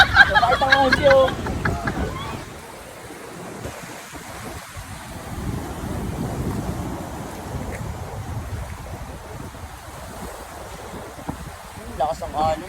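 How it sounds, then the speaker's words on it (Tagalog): Rough sea waves and wind buffeting the microphone on a small fishing boat off Mauban, Quezon Province, a continuous rushing swell, with people talking over it at the start and end. "Lakas ang alon, no?"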